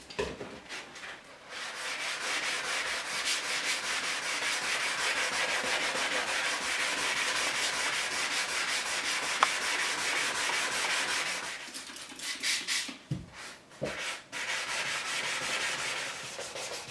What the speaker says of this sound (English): But for today, it's just a rub down